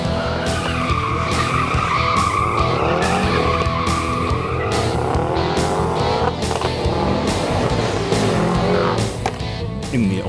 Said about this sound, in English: Salah Malik in the Sam Performance all-wheel drive modified Subaru WRX STI would set the 3rd quickest time in the opening heat